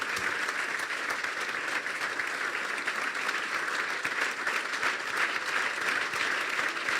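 A church congregation in Punjab, India claps steadily in broad, dense applause welcoming a pastor to the front, sustained and even throughout without a break.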